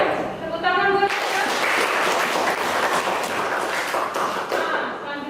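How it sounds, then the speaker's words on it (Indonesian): Audience applause after a classroom presentation, a dense burst of clapping from a small group that fills most of the clip and holds steady, starting after a brief moment of speech. "Tepuk tangan buat kita"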